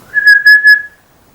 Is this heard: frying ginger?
no